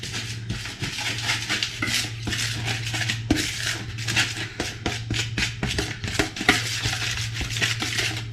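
Flour and baking powder are mixed in a bowl with a utensil, producing a brisk run of clinking, tapping and scraping strokes, close and continuous with a steady low hum underneath.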